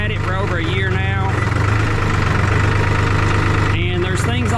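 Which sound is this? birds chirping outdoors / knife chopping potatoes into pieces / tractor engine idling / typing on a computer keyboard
tractor engine idling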